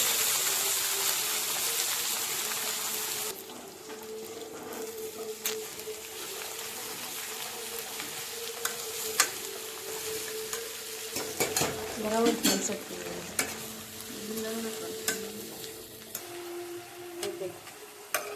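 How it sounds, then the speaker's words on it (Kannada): Chopped fenugreek leaves hit a hot pan with a loud sizzle that soon settles into a softer, steady fry, broken by scraping stirs and the clink of a utensil against the pan. "ಸೊ ಆ ಮೆಂತ್ಯ ಸೊಪ್ಪನ್ನ ಹಾಕಬೇಕು. ಹಾಕಿ ಒಂಚೂರು ಫ್ರೈ ಮಾಡಬೇಕು."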